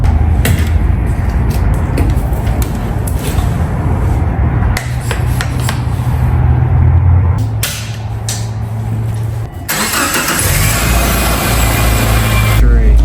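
Subaru Forester engine running at steady revs with the heater on full after a thermostat replacement and coolant top-off, a constant low rumble under scraping, rubbing workshop noises and a brighter hiss near the end.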